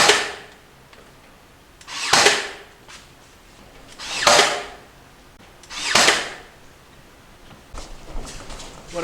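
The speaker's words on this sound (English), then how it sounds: "We're going to come in here and we're going to nail all these, glue and nail" Pieces of a wooden spray-can wall rack being glued and nailed in a workshop, four loud sharp nailing bursts spaced about two seconds apart, close by and with no talk.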